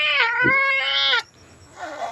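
A small kitten at a temple in Chae Hom, Lampang, gives two close, loud, high-pitched meows in quick succession, followed by a faint, softer cry.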